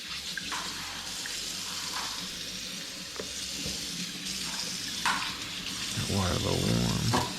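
A kitchen tap runs steadily into a sink during cleanup after cooking chicken Alfredo, a continuous hiss of water with a few clatters, and a voice briefly speaks near the end.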